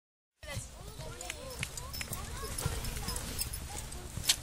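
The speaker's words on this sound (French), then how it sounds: "allez Victor, il s'arrête pas ton petit poney" Pony hooves clip-clop in a steady walking rhythm during an outdoor riding lesson, fairly faint and continuous, while an instructor calls out to the young riders.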